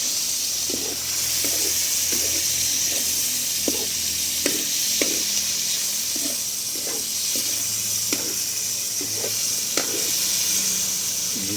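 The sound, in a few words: sautéing chicken meat in a pan for tinola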